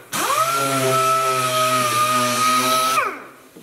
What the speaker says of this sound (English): He's not afraid to use a sander.